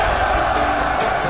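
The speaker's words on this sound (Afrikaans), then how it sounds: "Die skare het hard gejuig." A crowd cheers loudly in a steady, dense roar of many voices that holds at an even level throughout, with no single voice standing out.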